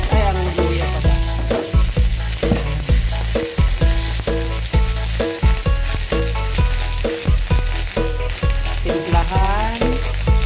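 Garlic and ginger sautéing in a pan, a loud, continuous sizzle and crackle broken by repeated stirring scrapes and clatters, with no voices over it.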